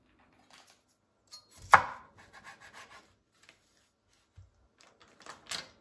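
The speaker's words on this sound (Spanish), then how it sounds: "Ya corté la cebolla" A knife chops an onion on a board for Salvadoran tamales: one sharp, close strike, then a few scattered lighter cuts and taps in otherwise quiet surroundings.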